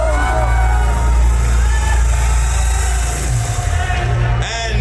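A press conference audience at a film trailer launch applauds and cheers loudly, with whoops and shouts over a continuous roar of the crowd.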